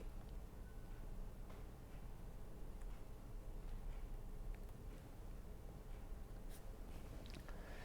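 Chalk tapping and scraping on a lecture board as symbols are written for a transformer lecture, a run of quick irregular ticks and scratches over a low steady room hum, with no talk.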